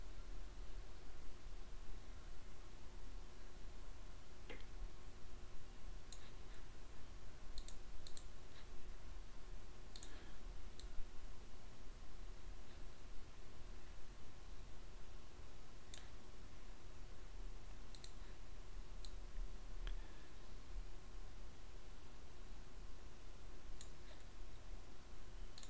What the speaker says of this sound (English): I'm just right-clicking these, by the way.